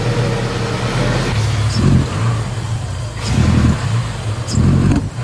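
A Jeep engine idles low and revs up three times in short bursts, each rise rumbling briefly before settling back; the engine lacks power and bobs under throttle.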